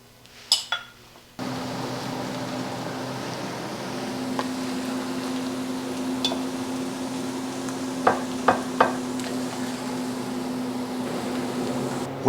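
Breakfast food for a carnivore meal lands in a pan after a couple of sharp clatters, then a steady close sizzle runs on, punctuated later by a few brief taps of a utensil.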